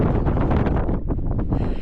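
Loud wind buffeting the microphone in heavy, rumbling gusts, with a brief dip before the roar returns.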